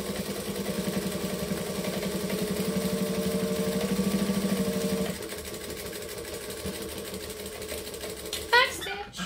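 A sewing machine top-stitches a tote bag from bottom to top, its motor running steadily and close for about five seconds before it stops, followed by quieter handling noises and a short rattle near the end.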